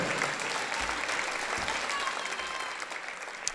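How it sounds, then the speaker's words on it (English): A high school basketball crowd in a gym applauds four former Kahawks inducted into the NBCA Hall of Fame during halftime: a broad, even wash of clapping and crowd noise that holds steady, with one sharper clap near the end. "Let's give these four Kahawks a big round of applause and congratulations on your induction to the NBCA Hall of Fame this year"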